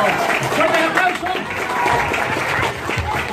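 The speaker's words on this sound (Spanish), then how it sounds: "¡Fuerte el aplauso!" An audience at a children's entertainment show applauds with sustained, fairly loud clapping that dips briefly and then swells again. A few voices can be heard mixed into the crowd noise.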